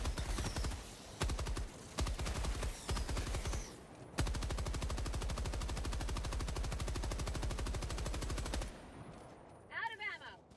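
Machine gun fire in Helldivers 2, long sustained rapid bursts of automatic shots, loud and close, broken by short pauses, with a brief bit of other game sound at the end.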